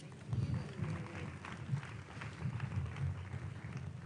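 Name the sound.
audience applause after a speech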